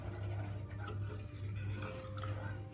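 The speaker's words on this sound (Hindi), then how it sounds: "सूजी को हम अच्छी तरह वो कर लेंगे, भूनेंगे इसको" Semolina roasted in oil for suji halwa: a low, continuous scraping and stirring in a pan with faint metallic utensil sounds, close and steady throughout.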